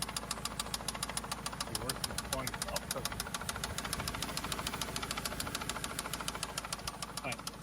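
A Toyota Camry engine with a top-end knock, reportedly run with no oil, ticks in a fast, even metallic rhythm over a steady low idle. Someone talks over it.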